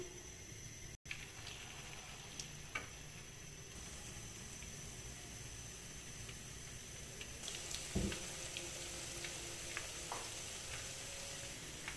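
Potato and chicken tikki patties fry in hot oil with a steady, faint sizzle throughout, broken by a few small pops and a brief clatter near the end.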